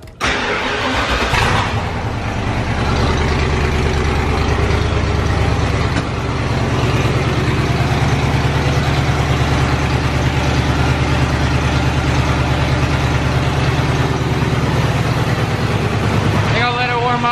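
A vehicle engine, recently fitted with fresh power steering fluid, cranks and catches, then settles into a steady, loud idle as it warms up in a garage, running continuously with no break.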